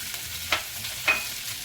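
Green onions and celery sizzling in chicken grease, a soft, even hiss broken by two quick utensil clicks.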